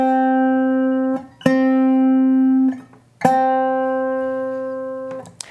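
A slide guitar note sounds slightly out of tune, ringing clearly and alone, then is restruck twice in separate sustained notes with brief gaps between them.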